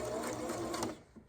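A sewing machine stitches fabric for a small handmade gift in a quick mechanical run that slows and stops, followed by a short sharp click.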